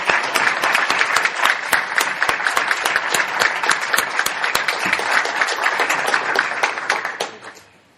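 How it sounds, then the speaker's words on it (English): Listeners at a poetry prize reading applaud the winner, with many crisp individual claps forming a continuous, fairly close round of applause that fades out in the last second. "so that she can hear some applause"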